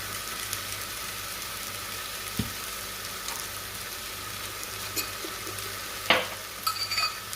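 Red lentil dhal sizzles steadily in a pan as ground ginger is added, with a constant frying hiss and a few faint stirring clinks and taps.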